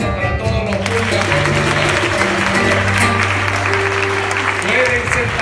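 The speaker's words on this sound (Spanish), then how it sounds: "Un aplauso para todos los pulgas." Church congregation applauding loudly, dense clapping filling the space while sustained tones, probably organ or keyboard, play underneath.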